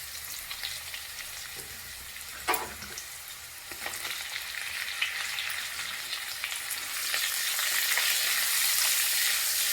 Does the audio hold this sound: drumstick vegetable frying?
yes